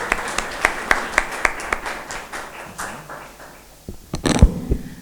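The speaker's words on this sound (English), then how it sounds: "A round of applause for Miss Gitanjali Rathore," A campus event audience gives a round of applause, heard as sparse, fairly rhythmic individual claps that thin out and fade, followed by a few scattered louder knocks and claps near the end.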